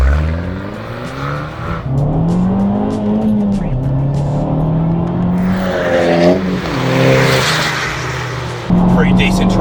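An Abarth 595 Competizione pulls hard through the gears, its engine note climbing steadily with a brief dip at a shift before rising again, loud and close from inside the car, with someone talking over parts of it.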